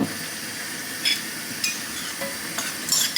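Raw prawns hiss and sizzle in a pan heated with coconut oil, a steady close frying crackle with a few brighter spits and stirring bursts, and no voices.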